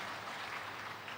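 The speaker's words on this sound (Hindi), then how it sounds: "एक बार तालियां बजाओ" Audience applause at a devotional cow-katha gathering in Ranchi, Jharkhand: a steady, dense wash of clapping from a crowd, even and continuous throughout without pauses.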